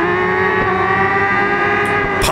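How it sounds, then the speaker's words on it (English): A Suzuki racing motorcycle in RIDE 5 during a Le Mans endurance race holds a loud, steady engine drone, broken by a couple of sharp exhaust pops, one brief crack early and a stronger burst near the end. "Pop of the exhaust in front."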